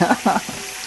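Pork chops sizzle in a hot frying pan, a loud, close frying hiss that dips briefly at the start and then settles into a steady crackle.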